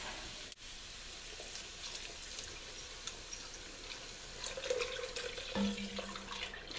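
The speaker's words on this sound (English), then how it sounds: "I'm gonna go ahead and pour in the milk and the reserve clam juice that I have" Milk and reserved clam juice pour into a pot of clam chowder cooking on low heat, a steady liquid rush with faint sizzling and a light clink partway through.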